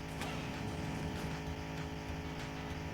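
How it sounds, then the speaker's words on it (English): A car engine in The Long Drive video game drones loud and steady, a constant low rumble with a faint intermittent tick over it. "The engine is so loud you can barely hear the sound alert."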